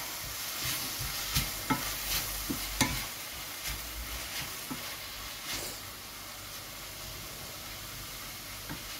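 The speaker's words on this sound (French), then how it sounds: "On laisse revenir un peu les légumes" Vegetables sautéing in a pan with soy sauce, a steady sizzling hiss broken by short scraping knocks of stirring, moderately close and fairly quiet, with no voices.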